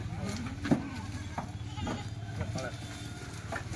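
About fifteen goats bleat repeatedly, several short cries close by amid a restless herd, with people talking over the animals.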